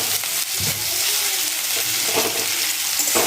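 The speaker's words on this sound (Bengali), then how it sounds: "আর চিকেনটা দিয়েও একটু ভাজবো" Marinated chicken frying with onions in a pan gives a constant, loud sizzle with occasional stirring scrapes and no talking over it.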